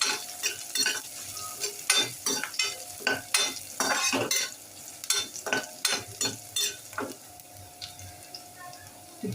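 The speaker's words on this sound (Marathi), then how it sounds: "इथे लसूण, आलं आणि मिरची आपण परतून घेतली." Chopped garlic, ginger and green chili sauté in a pan for prawn fried rice, with rapid, irregular spatula scrapes and clinks against the metal over a soft sizzle, close and busy, easing toward the end.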